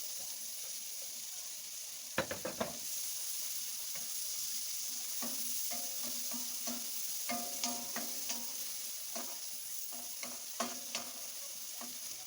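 Garlic browning in a pan with onion just added, a steady oil sizzle running throughout, broken by clattering stirs and scrapes from a utensil; no voices.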